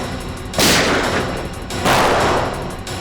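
Two loud bursts of gunfire crack over a dense, noisy background, each followed by a rumbling echo.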